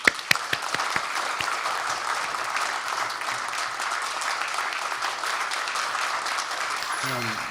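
Steady, moderately loud applause from a church congregation at an elder's presbytery moderator inauguration service, starting with a few distinct claps and filling into a continuous patter for several seconds.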